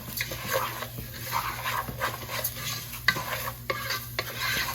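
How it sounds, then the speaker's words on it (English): Rice frying in a pan for Mexican rice with garlic, stirred and scraped with a few sharp clicks over a soft continuous sizzle. "You're gonna continue to fry your rice a little bit"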